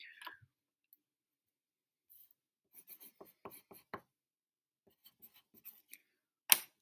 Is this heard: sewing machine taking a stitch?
no